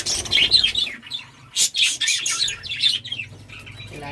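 Close-range migratory birds chirping in bright, rapid bursts of tweets and calls, with brief pauses between flurries and no voices.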